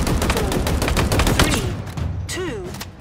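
Gunfire in the shooter Halo Infinite: a rapid string of loud, close shots that tapers off, with a voice briefly heard near the end.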